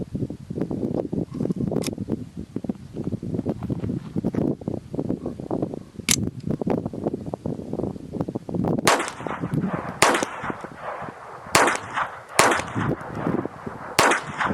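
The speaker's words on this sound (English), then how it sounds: "Next up, 10 rounds of Remington Golden Bullet, 1280 feet-pounds per second" Sharp .22 rifle shots from Remington Golden Bullet ammunition, several cracks spaced a second or two apart over steady outdoor wind and rustle, fairly close and loud.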